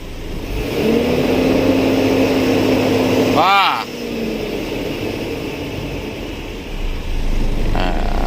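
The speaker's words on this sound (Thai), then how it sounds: "อ้าวเร่งเครื่อง" A common-rail engine idles with a steady hum, then is revved once so the pitch sweeps sharply upward before dropping back to idle. Voices talk over it nearby.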